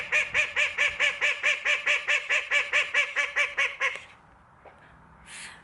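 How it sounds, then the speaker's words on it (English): A pet duck quacks loudly and close by in a rapid series of about seventeen evenly spaced, harsh calls, then falls silent, leaving quiet indoor room tone. "my duck is so loud"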